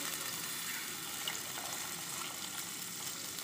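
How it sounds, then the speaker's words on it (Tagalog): Water pours steadily into a cooking pot for arroz caldo with chicken, a continuous close splashing gush without any pause. "Ilalagay na po natin ngayon guys yung tubig."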